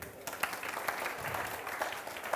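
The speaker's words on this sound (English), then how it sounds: "Give a clap." An audience at a school science exhibition and science show in Indore claps together, giving a brief, steady patter of applause that fills the room for a couple of seconds.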